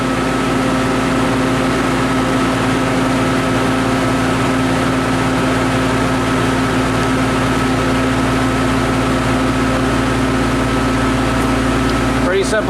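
A Riedel 6-ton laser chiller from KIG runs with a steady mechanical hum and drone, its constant tones holding level throughout with no pauses.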